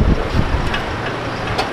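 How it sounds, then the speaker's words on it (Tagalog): Strong wind buffets the microphone outdoors in a loud, continuous roar with gusty swells and no voices. "Lakas ng hangin."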